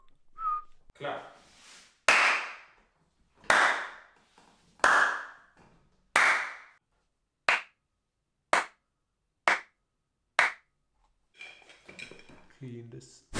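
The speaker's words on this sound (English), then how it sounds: "Clap." Hand claps ring out one at a time in an untreated room, each sharp strike followed by a short roomy decay; about nine claps in an even, spaced rhythm, with a whistle and other test sounds nearby.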